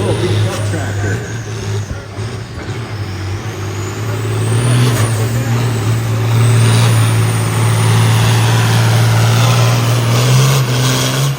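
A small, beat-up tractor engine roars at a truck and tractor pull, its low, steady drone holding loud and rising further partway through, under the noise of a crowd and a loudspeaker announcer.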